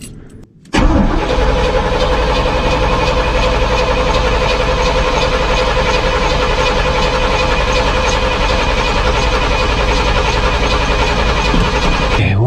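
An old truck engine, with gas poured down the carburetor, cranks briefly and then catches, running loud and steady at a rough idle with a constant mechanical drone and no talking.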